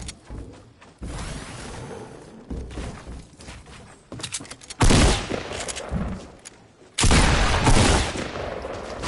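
Gunfire in a shooter video game comes as bursts of rapid shots and heavy impacts, loud and close, with two especially dense volleys near the end.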